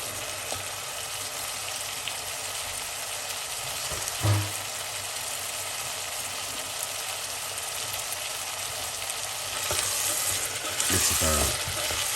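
Chickpeas and broccoli are stirred in a sizzling pan, a constant close frying hiss broken by a scrape and knock near the middle and a louder clattering stir near the end, with no talk.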